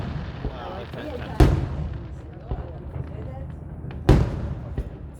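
Fireworks shells packed with explosives burst outdoors, two loud sharp booms about three seconds apart over a steady background of crackle and voices.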